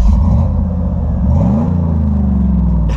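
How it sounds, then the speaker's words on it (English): A log skidder engine rumbles loud and near in the woods, with a deep steady idle that swells into a rising rev partway through. "I don't like that revving like that."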